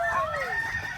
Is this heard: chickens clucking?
yes